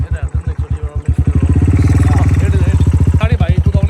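A super bike motorcycle being ridden, its engine thumping in a loud, rapid pulsing beat close by, the rhythm quickening as it revs and pulls away.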